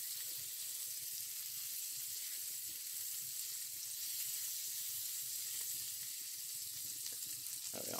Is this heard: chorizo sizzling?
yes